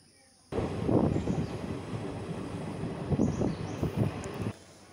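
Riding inside a moving train brings a continuous low rumble and rattle that starts abruptly, rises and falls with the motion of the car, and then cuts off; a voice is faintly present.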